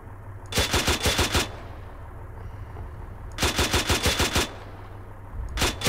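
HEDP shells fired from a gun in the video game ARMA 3, heard as three loud bursts of rapid automatic fire separated by short pauses.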